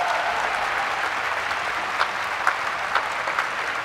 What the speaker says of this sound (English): And the crowd are getting behind her.